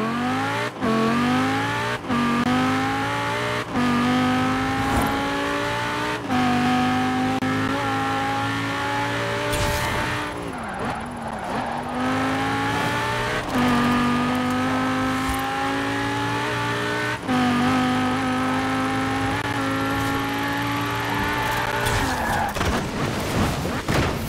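A 2013 Ferrari driven hard in Forza Horizon 4, its engine howling steadily through rising gear pulls with brief dips at shifts, a tire squeal and skid in the middle, loud and continuous throughout.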